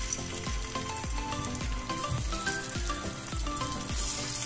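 Stuffed bitter gourds frying in hot oil in a pan, giving a dense, continuous close sizzle with crackling spatters and soft periodic thumps throughout.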